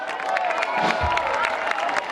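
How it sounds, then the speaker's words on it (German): Audience applause and cheering for a dance group at a Cologne carnival-style session: a steady, loud wash of crowd clapping with a shout or two rising through it. "einen großen Applaus"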